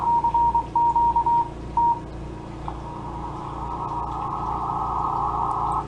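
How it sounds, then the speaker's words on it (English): Morse code CW tones of a CQ call received on a shortwave radio: a clear, steady pitched tone keyed in short and long bursts, followed by a longer wavering tone over faint background hum. "He just sent da da da da da da da. That's CQ."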